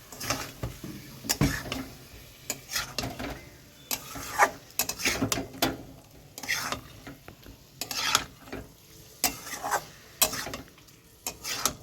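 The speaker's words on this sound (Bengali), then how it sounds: "এবার ম্যারিনেট করা চিকেনটা দিয়ে দেবো।" Yogurt-marinated chicken is stirred in a pan over low heat for chicken patiala, with repeated clinks and scrapes of a spoon against the pan and a soft sizzle beneath, fairly close.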